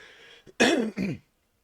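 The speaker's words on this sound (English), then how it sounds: "I'm sorry for all the coughing." A close, raspy throat clearing followed by a short cough, then quiet.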